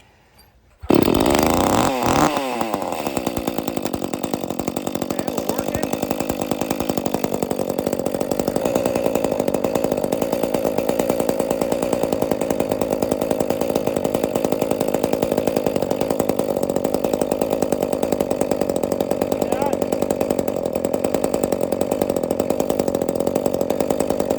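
A chainsaw starts up after a clutch repair and runs loud and close at a steady high idle with thick grease inside, a buzzing two-stroke drone that holds for over twenty seconds.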